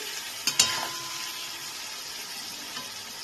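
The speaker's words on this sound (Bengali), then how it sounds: "এটাকে আমি এবার আলুর সাথে ভালো করে একটু কষিয়ে নিচ্ছি।" Spice paste fries with potatoes in a pan, a low steady sizzle with two sharp utensil knocks early on and a faint scrape later.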